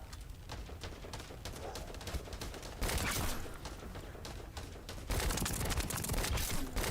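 Pulse rifle gunfire in a looter shooter video game: rapid, dense bursts of shots in quick succession, growing louder in two surges, with constant crackling action behind them.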